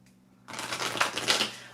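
Oracle cards being shuffled by hand, a sudden start of quick, close riffling and flicking that builds into a busy papery rattle, with no voice over it.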